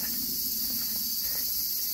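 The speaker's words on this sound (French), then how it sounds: "On y retrouve nos amis les cigales" Cicadas in a forest around a small temple in Kamakura, Japan, giving a steady, dense high-pitched drone that runs unbroken throughout, loud and continuous with no talk.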